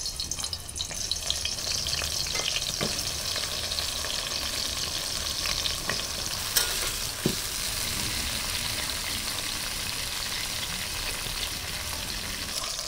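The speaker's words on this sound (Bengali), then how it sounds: "এবার আমি বেগুনগুলো ভেজে নেব" Steady, close sizzling of eggplant pieces frying in hot mustard oil, a continuous crackling hiss with a few sharp pops and the odd stir.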